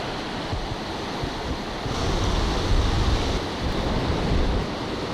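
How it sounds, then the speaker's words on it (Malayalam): Sea waves wash steadily against the shore, a dense, continuous surf roar with wind buffeting the microphone and a slight swell in loudness midway. "ഉമ്മ കടലിന്റെ തിര എണ്ണാൻ വന്നതാ"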